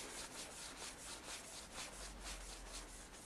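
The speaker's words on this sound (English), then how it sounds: "So all I'm doing is hand rubbing." A hand steadily rubs a part stripped from a BMW F 650 GS motorcycle, producing a soft, continuous scrubbing friction with a gentle back-and-forth pulse, quiet and close with no voices.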